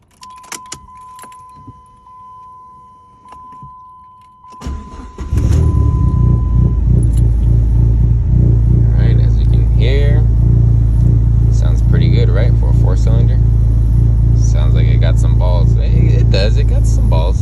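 A Dodge Neon SRT4 four-cylinder engine cranks, starts and settles into a loud, steady, throaty idle close by, preceded by quiet handling noises and jangling keys.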